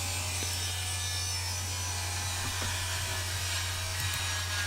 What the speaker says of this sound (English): I will just start ripping them down to 1/2 inch width